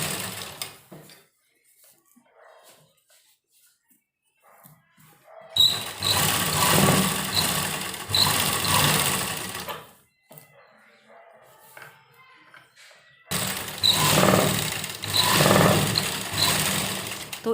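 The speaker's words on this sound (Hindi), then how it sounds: "हमें सिलाई जो है इसके किनारे पर लगानी है" A sewing machine stitches along the edge of pyjama fabric in two sustained bursts of steady whirring, separated by a quieter pause with light handling sounds.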